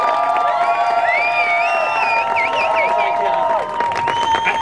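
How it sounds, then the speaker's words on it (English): An outdoor rally crowd at an Iran day-of-action event in Austin cheers and whoops for a speaker, with shrill shouts and whistles rising over a dense, loud wash of clapping that holds steady to the end. "You got an applause for him."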